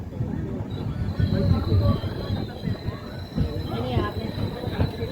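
The KSR Bengaluru–Nanded Express (16593) at Udgir station gives off a loud rumbling clatter with a thin, sustained high wheel squeal, heard from on board amid crowd chatter and voices.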